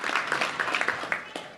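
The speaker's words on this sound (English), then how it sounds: "they give a round of applause for everybody who's giving the potluck" Club members at a Little Rock Touchdown Club meeting applaud together, a close, steady patter of hand claps with a few sharper claps standing out before the clapping thins.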